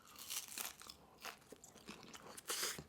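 Close, crisp crunches come from someone biting and chewing a crunchy nacho chip topped with ground beef and melted mozzarella cheese, several bites and chews in quick succession, with no talking.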